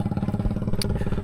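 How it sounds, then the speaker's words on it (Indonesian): Compressor engine running beneath a bridge by a river, a steady mid-pitched mechanical chugging with rapid regular pulses, close and continuous, with one brief hiss near the end. "Karena ada mesin kompresor di situ"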